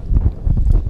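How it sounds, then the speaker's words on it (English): Strong wind buffets the microphone on the cold autumn summit of Sugar Loaf mountain, a loud, continuous low rumble with uneven gusting pulses and no voices. "it's incredibly windy because we're on the summit of a mountain"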